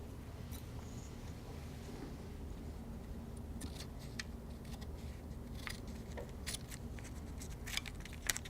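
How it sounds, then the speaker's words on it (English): Scissors cut a Kevlar repair patch from a template for a composite propeller gouge repair, giving faint, scattered snips and clicks over a steady low background hum. "I'll put my template on, and I'll cut out my first piece."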